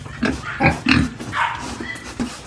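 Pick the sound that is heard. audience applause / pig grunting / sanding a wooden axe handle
pig grunting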